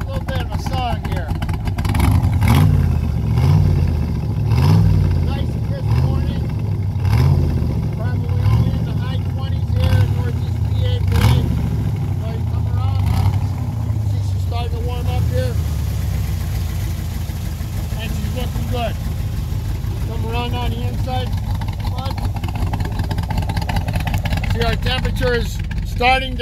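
A 1965 Corvette Roadster engine runs close up after a cold start. It begins with a rhythmic, pulsing lope and settles into a steady, rumbling idle over roughly half a minute.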